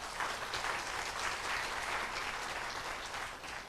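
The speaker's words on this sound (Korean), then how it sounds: "큰 박수로 맞이해 주시기 바랍니다" Audience applause greets a university president and professors at a cyber university entrance ceremony and orientation, a steady, dense wash of clapping lasting several seconds before easing slightly at the end.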